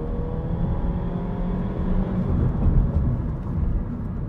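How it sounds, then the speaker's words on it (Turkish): A 2022 Honda Civic accelerating, heard as a steady broadband engine and road roar from inside the car that swells slightly midway, loud and continuous with no talk. "Tekrar bir hızlandıralım aracı."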